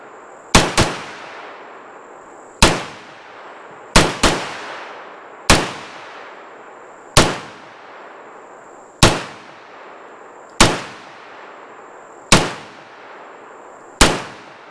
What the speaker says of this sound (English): another mag of the Fenix through the Beretta.